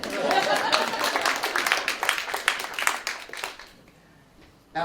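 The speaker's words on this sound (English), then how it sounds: "Let's give Alan a round of applause." An audience applauds a reverend being welcomed onstage at a divinity school symposium panel, the clapping dense and steady for about four seconds before fading into near silence, with a brief burst of noise right at the end.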